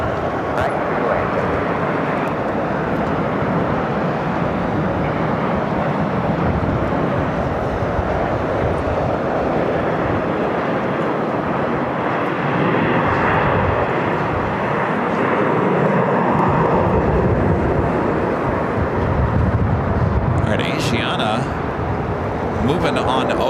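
A jet airliner lands on a runway at LAX in extreme winds, a broad continuous roar of engine and rushing air holding steady throughout, with radio-style voices talking over it.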